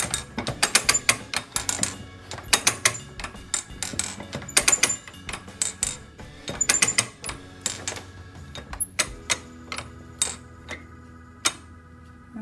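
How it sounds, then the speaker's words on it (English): Carpet roll lever on a rug loom ratcheting to tighten the warp, a sequence of sharp mechanical clicks in quick bursts with pauses between, close and clear with no talk. "we want to come down to the carpet roll lever and go ahead and start to tighten this warp up"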